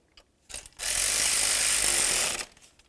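Ratchet wrench snugging a nut onto the serpentine belt tensioner bolt of a 2000-2005 Buick LeSabre, a sustained dense clicking burst of about two seconds, close and loud, preceded by a few short clicks.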